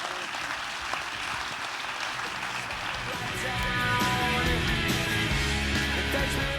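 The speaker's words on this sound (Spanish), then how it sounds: "la gente le regaló una larguísima ovación" A documentary-screening audience gives a long ovation, a continuous bed of applause that grows fuller and louder midway while music swells underneath.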